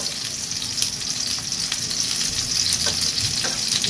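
Meatballs sizzle and crackle steadily in a hot pan, with a constant frying hiss and occasional pops close by.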